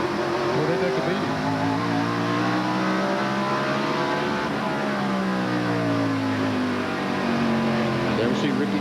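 Several 1997 stock car race engines heard from an onboard camera roar at full throttle, their pitch sweeping up and down through gear changes and corners, loud and close, with a commentator talking over them.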